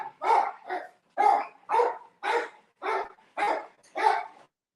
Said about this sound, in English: I'm trying to block out this noise with a dog.